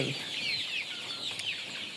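Hybrid Sonali chickens on a poultry farm, many soft overlapping clucks and chirps at moderate distance, steady and continuous throughout.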